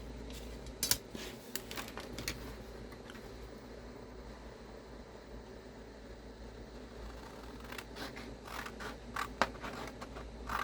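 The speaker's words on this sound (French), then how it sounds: "on va couper en diagonale ici et droit ici" Scissors snip through card in short bursts, a cluster of crisp cuts early and another run near the end, close and fairly quiet over a low room hum with no one speaking.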